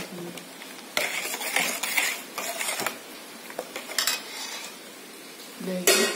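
Maida flour batter with egg, sugar, ground cumin and coconut milk being stirred in a bowl, with scraping clinks and knocks of a utensil against the side in irregular bursts, fairly close.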